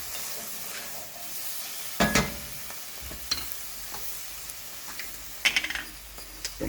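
Chopped vegetables sweating in a pan for BBQ beans, a low steady sizzle with scattered sharp clinks and scrapes of a utensil stirring against the pan, nearby and alone without talk.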